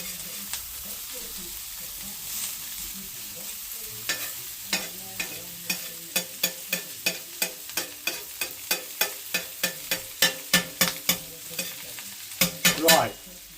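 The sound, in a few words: bacon sizzling while frying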